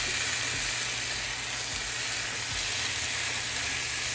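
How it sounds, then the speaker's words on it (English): Tortilla wraps spread with mayonnaise sizzle steadily as they toast in a hot pan, a constant close frying hiss with no break. "I put some mayonnaise on the wrap, and then I'm just gonna lay them down and toast them just like that"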